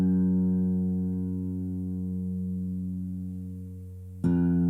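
One acoustic guitar note struck and left to ring, recorded as a sample for a lo-fi bedroom pop track. It sustains and slowly decays for about four seconds before a second sharp strike rings out.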